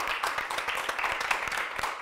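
Applause from a studio audience for the leaderboard on a Catalan school quiz show, a steady wash of many hands clapping close and fairly loud throughout, with no voices.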